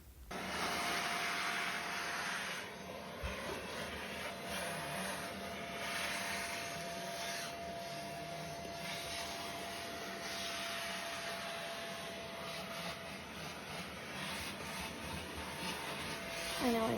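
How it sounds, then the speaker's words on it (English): Vacuum cleaner sucking up hair, dust and gunk from a bathroom floor around a toilet, a steady whining hum running continuously at moderate, close range. "I had to do the floor around the toilet because, there's like hair and dust and then gunk that gets in there. And so I decided to vacuum it out."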